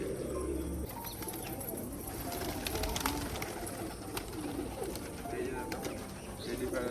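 Several household pigeons cooing steadily nearby, a low murmuring chorus with occasional chirps and light wing movement, a voice briefly speaking alongside.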